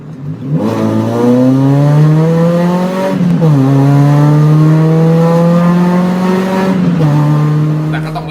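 A Nissan Micra K12 with a 1-liter, 60-horsepower engine revs loud and close: the engine climbs, dips briefly, then holds a steady high drone before easing off near the end.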